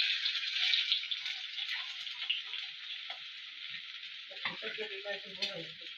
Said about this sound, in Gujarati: તો તેલ ગરમ થઈ ગયું છે તો એમાં આપણે ભીંડો નાખી દઈશું.